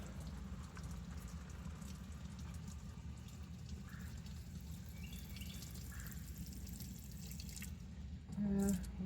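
Oil drains steadily from a 1997 Ford E-150 Econoline van with a 5.4 engine, a continuous trickling pour with a faint dripping texture, and a brief louder splash near the end.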